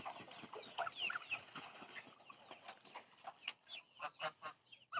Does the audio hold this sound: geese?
yes